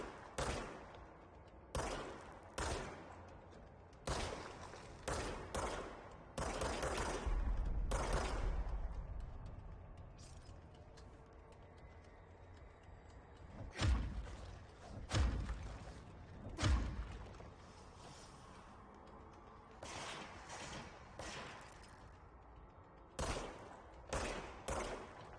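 Bursts of service weapon fire in the action video game Control, coming as repeated short volleys with pauses between them and a few heavier thumping blasts near the middle.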